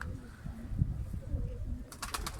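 A Konya çıplağı pigeon gives low, repeated cooing close by, followed by a short burst of rapid fluttering sounds at the end.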